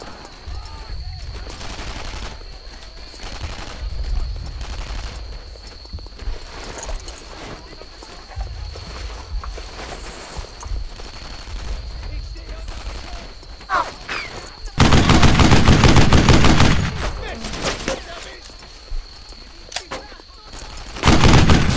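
Sustained bursts of suppressing gunfire from infantry weapons in the World War II shooter Brothers in Arms: Earned in Blood, rattling in rapid volleys with distant and close shots, a loud heavy barrage near the end, and soldiers shouting over it.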